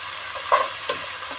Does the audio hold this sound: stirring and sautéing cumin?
yes